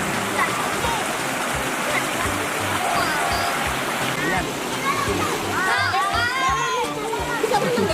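A natural river stream flows steadily and loudly while people bathe and splash in it, with children's voices and chatter mixed into the rushing water.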